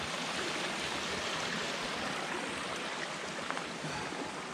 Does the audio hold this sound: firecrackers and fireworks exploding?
no